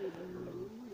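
Ornamental puffed-up pigeons give a low, throaty coo that wavers through a brief moment, fairly close.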